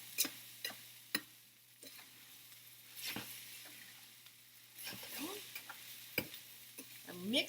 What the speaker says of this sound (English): Make sure you're scraping whatever is sticking to the bottom of that pan.